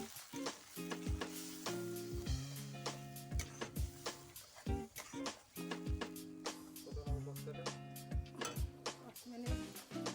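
Chicken with spice paste fries in a pan with a steady sizzle, broken by repeated sharp clinks and scrapes of a spoon stirring against the metal, close and continuous.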